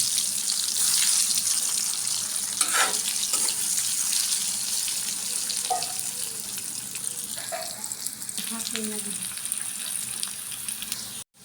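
Spice-coated food, rubbed with turmeric, chili, coriander powder and salt, fries in a pan with a steady hissing sizzle, close and fairly quiet, with a few light clinks and no voices.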